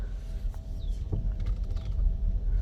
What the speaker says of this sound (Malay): Siap dengar bunyi steering kluk-kluk lagi.